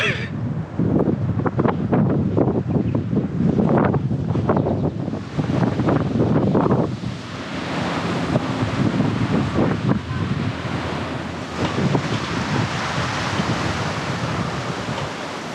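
Strong gusty, cold wind roars across the microphone at a beach near Palm Beach, with a steady wash of surf beneath it; loud and continuous, no voices.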